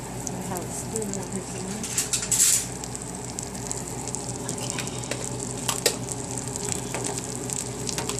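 Garlic fries in a pan with carrots and peas during an Asian-style ground beef dish, giving a steady sizzle close by with a few brief clinks and bumps.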